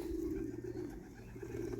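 Young racing pigeons coo softly in a loft, a faint, low, continuous murmur of several birds with no other sounds over it.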